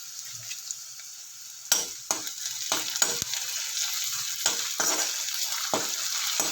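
Food fries in an iron kadai for a Kerala dish, with a steady close sizzle and sharp clinks and scrapes as a metal spoon stirs against the pan, and no talk.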